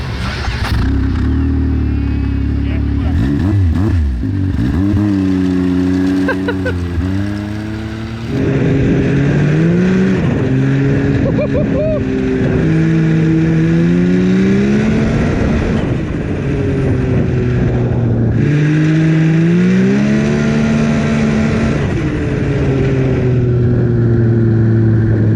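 A 300-horsepower starter snowmobile engine runs loud and close, revving repeatedly in rising and falling sweeps with brief dips between bursts, alone with no talk over it.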